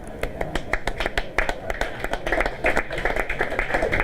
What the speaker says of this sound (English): A round of applause by the crowd that's watching.